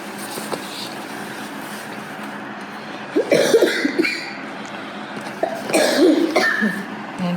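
A couple of short, rough coughs about midway and near the end, over a steady background hum.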